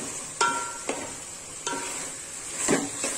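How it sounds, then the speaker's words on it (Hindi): Okra (bhindi) stir-fries over a high gas flame in a pan, a steady sizzle broken by a few sharp scrapes and stirs of the spatula, close and moderately loud, with no voices. "अब हम इसका फ्लेम तेज कर लेंगे गैस का, और अब इसको कस लेंगे भिंडी को अच्छे से।"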